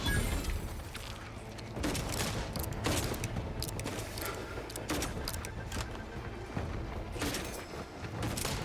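Dense, continuous gunfire fusillade in The Outer Worlds 2, with repeated shots and booming impacts clustered in bursts, loud and close throughout with no pause.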